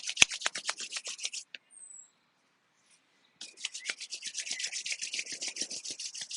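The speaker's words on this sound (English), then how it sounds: "Rubbing your palms together." Palms rubbing briskly together during a yoga session, a rapid rhythmic swishing friction close to the mic that pauses for a moment, then resumes in a steady back-and-forth pattern.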